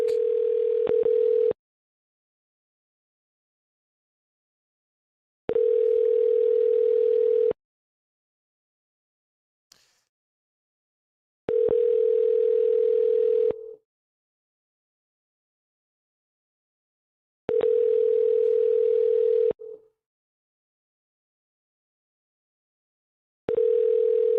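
Telephone line tone heard while calling a car dealership: a steady ringback tone repeating in five even bursts of about two seconds each, separated by silent gaps, clear and close with no talking.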